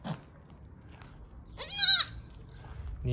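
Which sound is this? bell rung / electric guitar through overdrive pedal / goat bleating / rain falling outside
goat bleating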